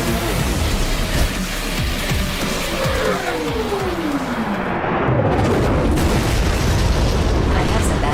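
A heavy, rumbling explosion roars as an extraction point is destroyed in the mecha video game Daemon X Machina. It is loud and continuous for several seconds, with booming bursts and a faint tone sweeping through the roar.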